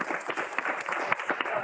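Audience applause at a board meeting, a short patch of scattered clapping from a small group in a room, moderately quiet and fairly even throughout.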